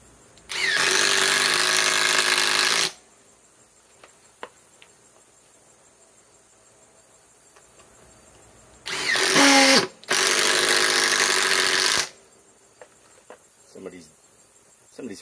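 A Metabo HPT WH18DDX cordless impact driver drives fasteners in loud bursts, one of about two seconds and then two more near the end with a short gap between, separated by quiet stretches with faint clicks.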